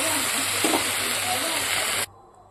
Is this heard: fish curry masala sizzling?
yes